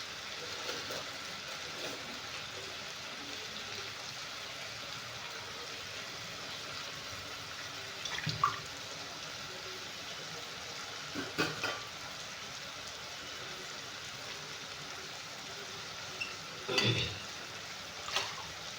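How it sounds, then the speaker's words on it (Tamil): Steady rain falling in Salem, Tamil Nadu, a constant broadband hiss throughout with a few louder splashes or drips standing out near the middle and end; no one speaks. "சேலத்தில் மழை பேஞ்சிட்டு இருக்குங்க."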